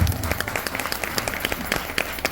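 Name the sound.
audience clapping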